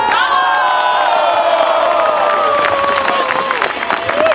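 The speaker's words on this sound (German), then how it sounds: "Wir bedanken uns für den reichhaltigen Applaus" Audience at a carnival gathering cheers, whoops and applauds loudly and continuously, with a dense roar of voices and clapping throughout.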